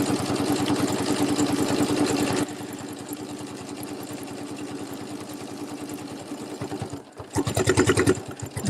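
A sewing machine stitches a small placemat with a fast, steady mechanical clatter close by. The rhythm drops to a lighter, slower run partway through, pauses briefly, then comes back loud and fast.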